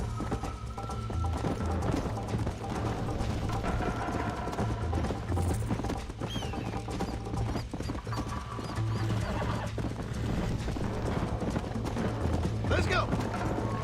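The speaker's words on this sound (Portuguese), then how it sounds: "Olha lá, o cavalo vai me derrubar" Galloping horse in the Red Dead video game, hooves clip-clopping steadily throughout with occasional snorts and a whinny, set against a constant low game soundtrack while someone talks over it.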